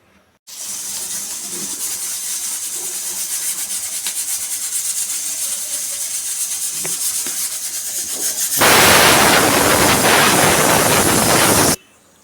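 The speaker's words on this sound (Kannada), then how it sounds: "ಕುಕ್ಕರ್ನ ಕ್ಲೋಸ್ ಮಾಡ್ತಾಯಿದ್ದೀನಿ ಮೂರು ವಿಸಲ್ ಬರ್ಸೋಣ" After a steady low background, a pressure cooker cooking wheat-grit pongal lets out a loud, sustained steam whistle for about three seconds before cutting off abruptly.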